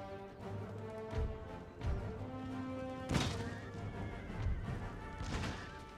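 Cavalry horses whinny amid crashes and thuds in the video game Empire: Total War, with scattered hoofbeats and battle impacts over a sustained droning background.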